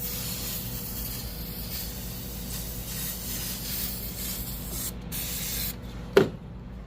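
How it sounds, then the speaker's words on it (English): Brake cleaner is sprayed from an aerosol can into a car's transmission cavity to clear leaked coolant, giving a steady close hiss that lasts several seconds before a brief clatter, after which it stops. "Gonna have to put a little bit more of brake cleans in here because of those extra coolant leak"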